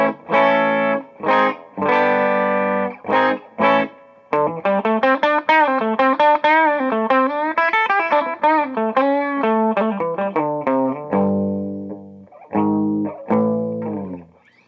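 Electric guitar with a humbucker pickup through a modified Frugal Amps Blackface Deluxe Reverb amp, vibrato off and reverb on, playing a loud mid-range phrase of chords and sustained notes with a reverb tail, no talking.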